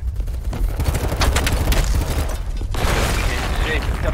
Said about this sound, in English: I will just keep shooting rockets and getting killed, sure.